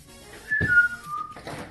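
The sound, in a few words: person whistling three notes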